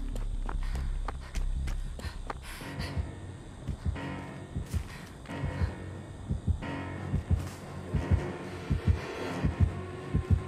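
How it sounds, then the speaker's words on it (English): A killer's heartbeat in the Dead by Daylight video game throbs in steady low pulses, growing louder and quicker partway through, over game ambience and footsteps. "Judging by how loud the heartbeat was, it seemed like he picked up on your trail for a moment."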